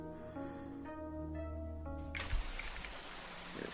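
Steady rain in the video game Fish Island, a soft hiss that swells in over game music partway through and then fills the clip alone.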